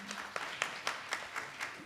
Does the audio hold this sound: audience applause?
yes